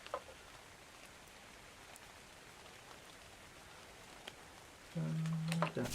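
Soft, steady rain in ARK: Survival Evolved patters across a surface, a continuous hiss with scattered drips, joined near the end by a brief low tone.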